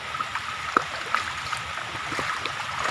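Stream water flows under a bridge beside a bike path, a faint, steady trickling wash with a few small splashes standing out.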